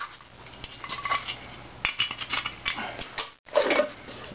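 A Russian airborne paratrooper mess kit pot and cup handled up close, with a string of metallic clanks, scrapes and rattles that stop briefly before one more sharp clatter.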